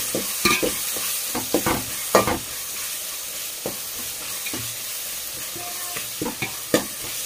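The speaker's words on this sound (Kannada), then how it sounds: "ಇದೆಲ್ಲವನ್ನು ಹಾಕಿ ನಾನು ಮಿಕ್ಸ್ ಮಾಡ್ತಾ ಇದ್ದೀನಿ" Spatula scraping and stirring chilli powder and spices through hot oil in a pan for street-style egg rice, with irregular close scrapes and clinks over a steady background sizzle.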